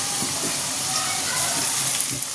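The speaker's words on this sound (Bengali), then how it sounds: "এই যে কতগুলো বড়া ভাজা হয়ে গেছে, আর এই যে এক করে ভাজছে" Bora fritters fry in hot oil with a constant, close hiss and sizzle. Faint bubbling pops rise now and then, and no voices are heard.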